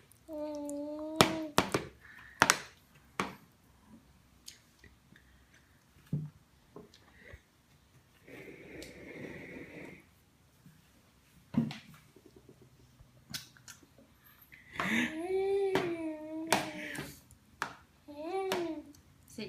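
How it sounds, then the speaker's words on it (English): Scattered hand claps, a few crisp bursts at a time, punctuate a child and adult singing a children's clapping song at home; the claps are close but sparse between the sung lines and quiet gaps. "clap your hands"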